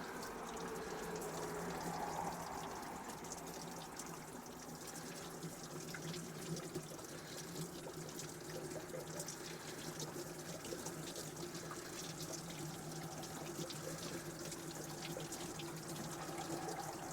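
Pink antifreeze poured through a hose into a Mercruiser boat engine, a steady rushing, trickling flow of liquid that continues evenly throughout, close and moderately loud, with no talking.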